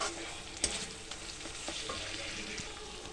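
Dry spices go into a pan of masala already fried down in oil for a vegetarian paneer dish, giving a steady low sizzle with a few light stirring scrapes and taps, close and quiet.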